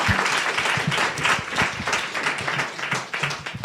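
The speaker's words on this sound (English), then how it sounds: "let's give her another round of applause because that's just phenomenal" Audience applause at a live book talk event, a dense steady wash of many hands clapping at once, loud and sustained throughout with no talking.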